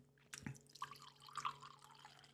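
Wine poured into a glass at close range, a quiet trickle with small splashing drips and faint glassy ringing over a low hum.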